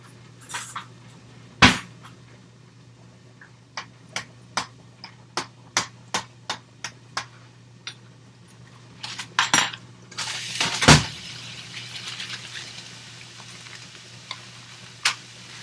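Hamburger meat for shepherd's pie cooks in a pan with a quiet sizzle, broken by sharp clicks and scrapes of a utensil against the pan and a few louder stirring clatters.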